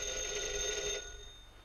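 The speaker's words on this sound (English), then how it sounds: "That's your phone, isn't it, Mr. Applegate?" An old-fashioned telephone bell rings steadily for about a second with a bright, sustained metallic tone, then cuts off and leaves a fading hum, with no voices over it.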